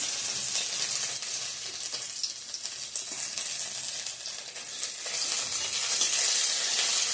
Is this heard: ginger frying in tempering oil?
yes